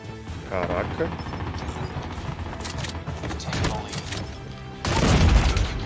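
The R9-0 shotgun fires in COD Mobile, with gunshots and booms from the game running under steady talk, and a heavier blast near the end.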